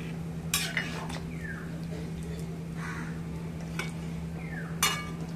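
A spiced dish with garam masala and black pepper being stirred and sautéed in a pan: intermittent scrapes and clinks of a spoon over a steady low hum, with faint crow caws in the background.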